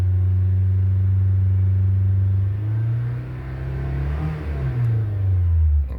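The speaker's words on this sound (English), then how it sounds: "Depress the accelerator fully until the engine goes into fuel cut." A Honda car engine revs hard and holds at a steady high drone, then the pitch dips and wavers as it hits fuel cut at the limiter, loud and close.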